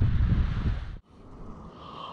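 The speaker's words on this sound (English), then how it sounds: "It's a little bit of wind from the right hand side, but it's manageable" Gusty wind buffets the microphone on a shingle beach at the Portland end of Chesil while cod fishing at night, a strong low rumble that drops out abruptly midway and then returns more softly.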